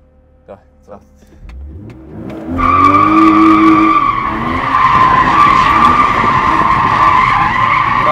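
A BMW X3 M engine roars up and tires skid and squeal continuously in a long drift, loud and close, after a few quiet thumps at the start.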